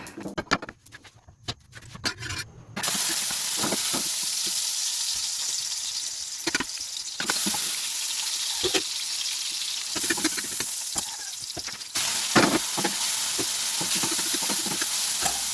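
Chicken and tofu adobo sautéing in oil with onion and garlic, a loud, steady sizzle and crackle after a few seconds of clattering, with occasional stirring scrapes, heard close without talking.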